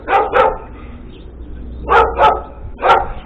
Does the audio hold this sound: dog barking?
yes